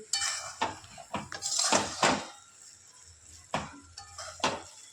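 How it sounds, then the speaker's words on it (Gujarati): A spoon stirs radish bhaji in a metal pot, producing several scraping, clinking strokes in uneven bursts with pauses between, close and fairly clear, no speech. "તેને એકવાર આપણે હલાવી લઈશું"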